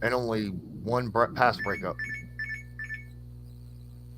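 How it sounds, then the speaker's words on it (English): A phone-like alarm beeps in short repeated chirps, three quick bursts following a man's speech, moderately loud and close. "That's not actually a call. That was my alarm."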